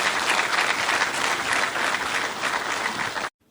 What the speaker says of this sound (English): An incisive presentation such as that deserves a better round of applause,